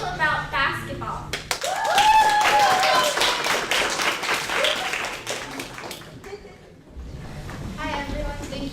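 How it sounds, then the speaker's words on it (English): Student audience at a school presentation day clapping for a 13-year-old speaker, a short burst of applause that swells and fades, with brief talking before and after. "please give a round of applause for Sophie Design"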